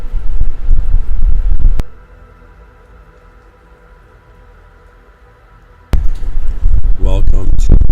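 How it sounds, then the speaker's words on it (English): Strong outdoor wind buffets a microphone in loud, rumbling gusts at the start and again at the end, with a quiet lull between them; a voice is briefly heard within the later gusts. "This is an extremely windy episode"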